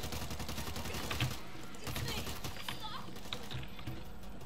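Rapid bursts of automatic gunfire in the World War Z video game, a dense crackling fusillade that runs throughout, mixed under excited voices of players talking.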